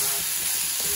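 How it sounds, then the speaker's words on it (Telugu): Chopped tomatoes with salt cook down in a pan, giving a loud, steady, close-up sizzle with no pauses and no voices. "టమాటాలు బాగా మగ్గాలి."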